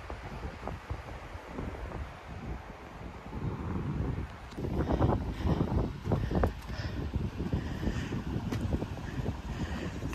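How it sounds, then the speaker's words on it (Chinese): Strong wind sweeps through a mountain gorge, buffeting the microphone in gusty rumbling bursts. The wind gets louder about halfway through and keeps rushing for the rest of the clip, with no talking. "风很大"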